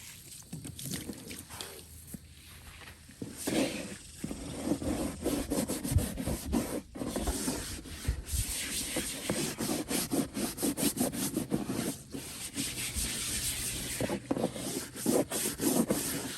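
A brush or scraper rubs and scrubs continuously across the wooden floor of a goat stall, a close, rough, rhythmic scraping with short pauses.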